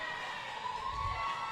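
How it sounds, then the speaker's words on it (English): Roller derby crowd cheering at a bout between Westside and Southside, a brief swell of distant shouting and whooping from spectators. "And the crowd literally goes wild"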